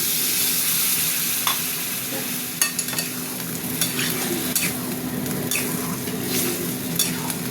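Ridge gourd and poppy seed curry sizzles steadily in a pan as water goes in, with scattered scraping taps of stirring over a constant hiss. No one speaks.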